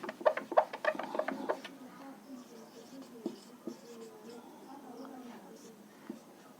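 Chalk or marker writing on a board during a geometry theorem lesson, a quick series of scratchy strokes at the start, then fainter scattered marks with a voice speaking throughout.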